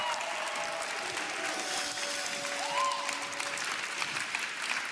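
Sustained applause from a TV show audience for a band, steady clapping throughout with a faint tonal hum beneath.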